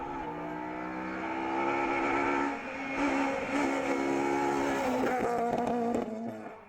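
High-revving Honda rally car on a classic stage in slippery conditions, engine screaming loud and close with harmonic whine, brief lift around two and a half seconds, then hard acceleration and gear changes near the end.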